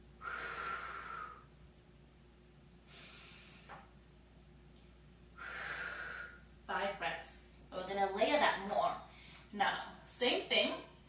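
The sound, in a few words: inhaling and exhaling breaths during bodyweight workout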